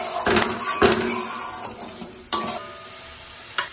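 Turmeric and coriander-fennel paste hit browned whole spices in a pan with a splash of water, sizzling briefly as a metal spoon scrapes and clinks against the pan a few times.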